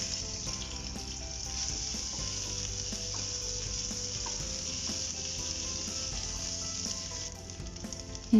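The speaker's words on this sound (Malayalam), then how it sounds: "അതിലേക്ക് നമ്മൾ ഇഞ്ചി വെളുത്തുള്ളി പേസ്റ്റ് ഇട്ട് കൊടുക്കുകയാണ്" Ginger-garlic paste frying in hot oil for chicken samosa filling, a continuous close sizzle with faint bubbling and crackles running throughout, ending in a brief louder clatter.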